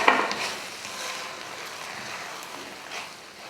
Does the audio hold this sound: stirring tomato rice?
yes